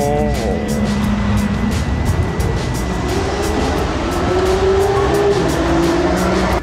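A twin-turbo Pontiac Firebird race car engine at the TX2K18 event, a loud, rough rumbling drone with rising and falling pitch as it revs, close and continuous across the whole stretch.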